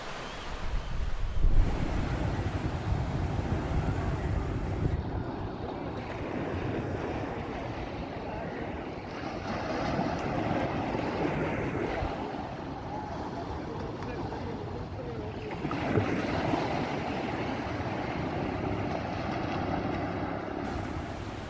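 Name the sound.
beach ambience with waves and wind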